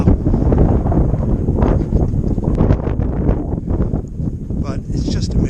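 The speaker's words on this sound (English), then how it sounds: "the wind's starting to pick up now" Loud, constant wind buffets the microphone on the rim of Meteor Crater in Arizona, a dense rumbling roar with gusty swells and no clear pauses.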